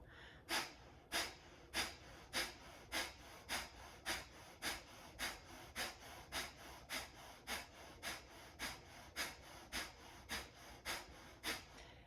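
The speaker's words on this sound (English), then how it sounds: "Take a big breath in, a big breath out." Deep breathing exercise with about twenty evenly spaced, close breaths, each a soft airy rush in or out, repeating steadily for the whole stretch at a calm, regular pace.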